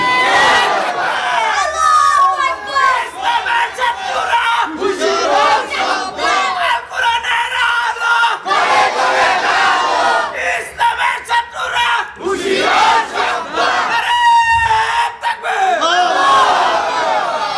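A large crowd at an outdoor political rally shouts takbir slogans in loud, repeated bursts, answering a leader's call with roaring group chants.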